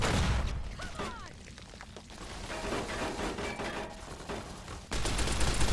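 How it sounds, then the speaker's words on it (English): Rapid gunfire and bursting grenade explosions erupt in a firefight in the video game Fallout New Vegas, a dense clattering barrage with sharp pops and booms that swells loudly again near the end. "That's a grenade!"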